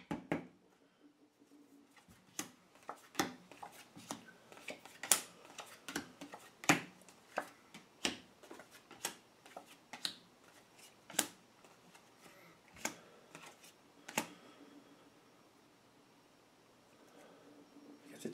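Tarot cards shuffled by hand, irregular crisp flicks and snaps scattered across a quiet room, some louder slaps standing out, with no talk.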